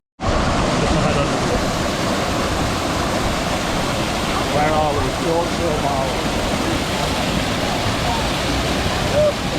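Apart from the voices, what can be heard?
waterfall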